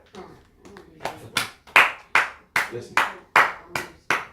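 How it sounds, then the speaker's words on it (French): A church congregation claps loudly for the Lord, with sharp, strong claps landing in a steady rhythm that starts out scattered and grows into firm beats, close and alone. "acclamons très fort le Seigneur"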